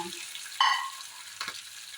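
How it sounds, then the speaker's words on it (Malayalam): Mustard seeds pop and sizzle in hot oil, two quick crackling bursts over a faint background hiss, close up with no talking. "കടുക് പൊട്ടുന്നുണ്ട് കേട്ടോ"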